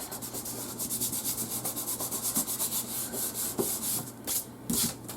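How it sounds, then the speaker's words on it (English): A hand rubs back and forth over a small paper piece on a handmade Mother's Day card to press it down. The soft, rhythmic scraping is close and continuous, with a couple of heavier strokes near the end. "flip it over, and just give it a rub"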